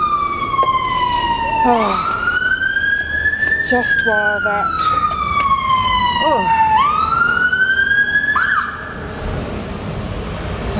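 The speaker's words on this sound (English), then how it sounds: "the fire engine trying to get through." Fire engine siren wailing up and down as it passes along a busy street, loud and near, steady for several cycles before dropping off, with a voice briefly exclaiming over it.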